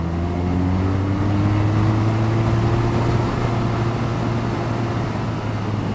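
A 2014 BMW R nineT naked motorcycle at steady cruising speed, its engine drone held at an even pitch under heavy, constant wind rush buffeting the rider, loud and close throughout with no talking.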